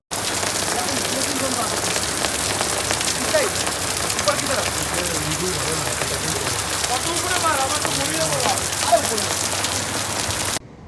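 Heavy rain pours steadily onto a surface in Gangtok, a loud constant hiss, while people talk and murmur underneath throughout.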